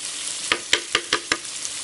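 Garlic hitting a pan of partly cooked onions for a Sri Lankan beef curry, sizzling close up with five sharp bursts of spatter and stirring, no talking.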